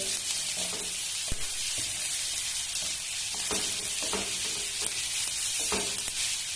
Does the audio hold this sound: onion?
yes